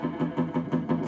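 Electric guitar played dry through a Summer Reverb pedal with an old Fender-style tone, a few rhythmic strummed chords repeating steadily, close and moderately loud with no voice over it.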